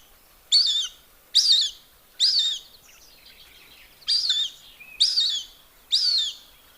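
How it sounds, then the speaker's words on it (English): A juvenile Cooper's hawk calls from a trail near Big Bear Lake, giving six sharp, high-pitched cries spaced about a second apart, fairly clear against a quiet background, with no talking. "Also, this is the sound of a juvenile's call,"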